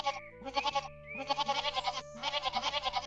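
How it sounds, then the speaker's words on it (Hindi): Goat kids bleating in quick overlapping bursts, loud and close, forming a busy repeated chorus. "और बकरी के बच्चे फिर शोर मचाना शुरू कर देते हैं।"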